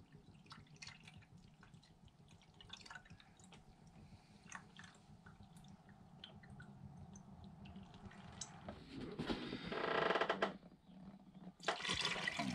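Coolant pouring into the cooling system of a 2016-2021 Jeep Grand Cherokee during a water pump replacement, a faint, steady liquid trickle and gurgle that builds to louder splashing bursts near the end, with no talking.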